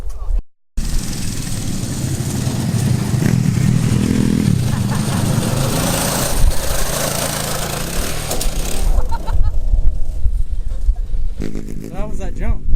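A dirt bike engine revs loudly and close at a dirt track, a raspy buzzing drone that swells and eases, with people's voices talking over it.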